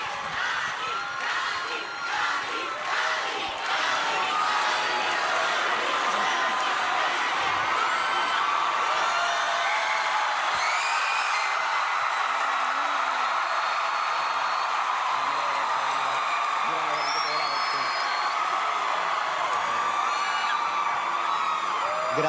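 A large audience at the Premios Juventud 2022 awards show cheers, whoops and shouts in a steady, dense roar that fills the whole stretch, with occasional sharper yells rising above the crowd.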